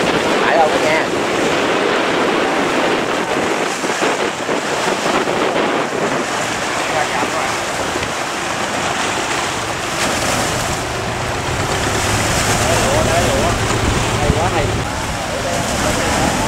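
Strong wind and crashing ocean waves at sea near small fishing boats, a loud continuous roar of surf and wind buffeting the microphone, with someone talking excitedly over it.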